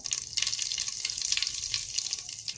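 Mustard seeds, cumin and asafoetida sizzling in hot oil for a vegetable tempering, a dense bright crackle with little popping bursts, steady and close, with no voices.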